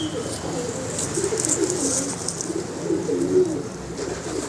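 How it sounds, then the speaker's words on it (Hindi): Soft, low pigeon cooing murmurs throughout, with a few faint bird chirps overhead and steady outdoor background noise. "बहुत ही नायाब कबूतर है जी"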